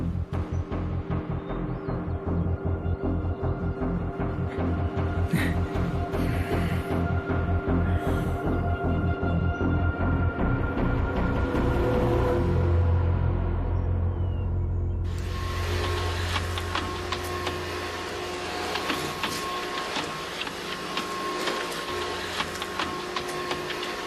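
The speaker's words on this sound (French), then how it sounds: "est-ce que tu peux éteindre cet aspirateur, s'il te plaît?" A household vacuum cleaner runs continuously with a steady motor drone through the whole stretch, loud and close, its tone shifting partway through as it gets harsher and brighter.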